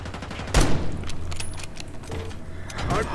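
Gunfire in Black Ops 6 multiplayer, a sharp loud shot near the start followed by scattered softer reports, clicks and movement sounds amid busy game noise.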